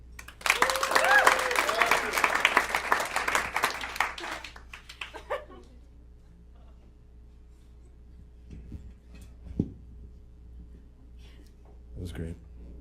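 Comedy club audience claps and cheers for a comic leaving the stage, a loud burst of applause that fades after about five seconds into near quiet with a few distant voices.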